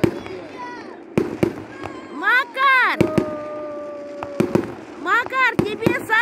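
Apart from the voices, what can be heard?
fireworks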